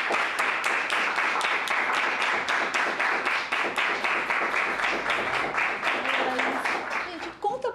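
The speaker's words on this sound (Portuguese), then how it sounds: "Eu quero pedir uma salva de palmas para Laís Bodansky e Luiz Bolognese." Audience at an acting-studio talk clapping in steady rhythmic unison, loud and close for several seconds before fading, with a brief voice at the end.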